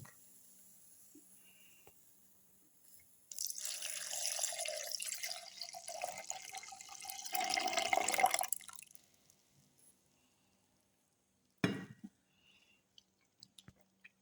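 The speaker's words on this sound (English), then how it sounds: "Pour in the milk." Milk pours steadily into a blender in a continuous splashing stream for several seconds, then stops, followed by a brief clunk and a few faint clicks.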